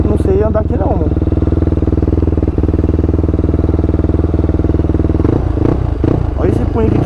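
A 160 Start motorcycle fitted with a 410cc engine runs loud and close, its steady rumble revving up and down with clattering bursts toward the end as people talk over it.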